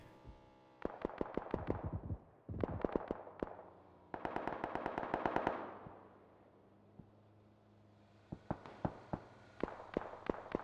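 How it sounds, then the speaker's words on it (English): Rapid bursts of gunshots in a PUBG console match, crisp repeated reports in quick clusters, fairly close, with pauses between volleys and a steady low background hum. "Still more shots going off."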